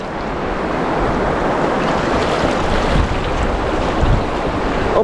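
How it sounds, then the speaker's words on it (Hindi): River water on the Amarnath Yatra route rushing steadily, a dense, loud, continuous wash heard up close with some wind buffeting the microphone and no voices. "नदी प्यारी सी बह रही है"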